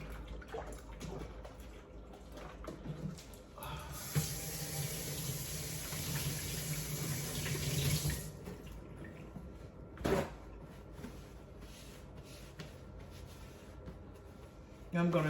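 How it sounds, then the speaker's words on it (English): Tap water runs into a kitchen sink for a few seconds as hands are washed, a steady hiss that stops abruptly, set among quieter kitchen clatter and a sharp knock. "Let me wash my hands because I do have to touch the camera. So I do have my dishwater here."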